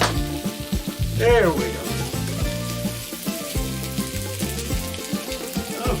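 Potato grills alongside Greek-style lamb burgers with a steady sizzle and crackle, heard close under a background of tonal music and a brief spoken remark.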